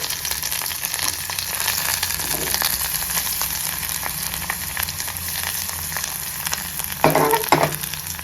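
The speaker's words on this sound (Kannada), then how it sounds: "ಸಾಸಿವೆ ಒಂಚೂರು ಚಟಪಟ ಅಂತಿದ್ದಂಗೆ ನಾವು ಈರುಳ್ಳಿ ಹಾಗೂ ಕರಿಬೇವು ಸೇರಿಸ್ಕೊಳ್ಳೋಣ. ಇವಾಗ ಇದು ಚೆನ್ನಾಗಿ ಫ್ರೈ ಆಗಲಿ" Onion and curry leaves fry with popping mustard seeds in a pan for Kerala kadala curry, giving a constant close sizzle with scattered crackles and a brief louder stir near the end.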